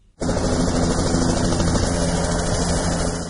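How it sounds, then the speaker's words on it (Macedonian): Police helicopter in flight over Macedonian forest, a steady loud rotor and engine drone that starts abruptly and holds constant throughout, with no talk. "Од полициски хеликоптер ја доловивме сликата"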